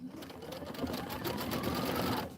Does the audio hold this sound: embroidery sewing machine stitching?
yes